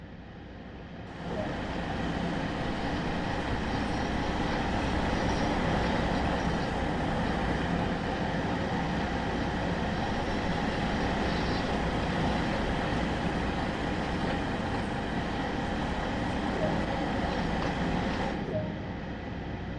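Steady rumbling of a Class 150 train running along the track on the West Cornwall route in the Train Sim World 2 video game, a continuous broadband roar with no voices, starting and stopping abruptly.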